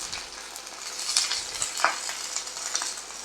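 Onions and garlic fry in a pan while being stirred, making a soft, continuous sizzle with scattered scraping and clicking sounds from the stirring, close and quiet.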